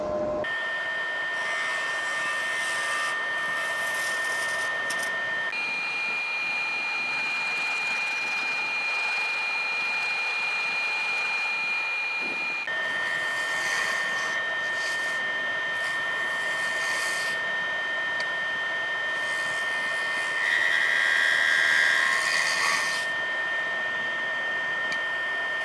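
A wood lathe spins a ginger jar held in the chuck jaws as it is parted off, with a steady close whine and a high tonal ring that shifts pitch in a few places, no voices.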